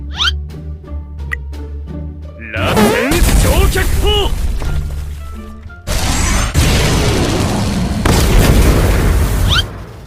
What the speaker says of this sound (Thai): ยิงทีบ้านเบื้มหมด กระทุ่มกระท่อม ระเบิดหมด